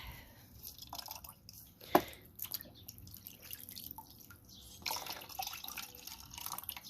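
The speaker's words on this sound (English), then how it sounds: "So one-handed wringing." Water drips and splashes from a wrung-out Norwex cloth, with a sharp louder drip burst near the two-second mark and scattered softer drops afterward, close and fairly quiet with no voices.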